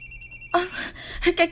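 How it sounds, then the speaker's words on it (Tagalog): A cellphone rings with a short repeating electronic tone, loud and close, starting abruptly after a brief quiet stretch and overlapping faint background voices. "Kanita nga akong cellphone."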